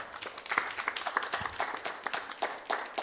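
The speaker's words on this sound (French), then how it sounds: "M. Tombiano Aboubakar, qu'on applaudit très fort." Moderate applause from an audience welcoming a trainer from FONAFI at a financial education workshop, with many hands clapping at mid distance, fairly soft and steady for a few seconds.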